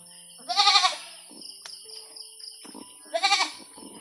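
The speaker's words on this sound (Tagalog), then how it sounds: "Dalhin mo dito yung kambing, Bin." A goat bleats twice, close and loud, with a wavering, nasal call near the start and another near the end, and only quiet background between the two.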